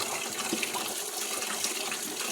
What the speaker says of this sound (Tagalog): Ang daganan og tubig.